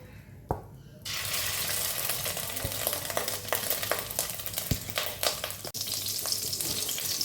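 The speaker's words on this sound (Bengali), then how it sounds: "মাছের ডিমগুলো আমি ছেড়ে দিচ্ছি, একটু ভেজে নিচ্ছি" Steady, close sizzling of fish roe frying in hot mustard oil, crackling continuously after a brief clatter, with a few sharp clinks of a utensil against the pan.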